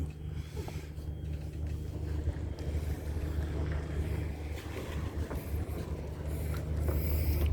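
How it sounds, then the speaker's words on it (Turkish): The engine of a 2009 Beneteau 54 sailboat runs as a steady low diesel rumble and hum, rising slightly in level, with creaks and rattles of the moored boat and some wind on the microphone. "Motoru çalıştırdık."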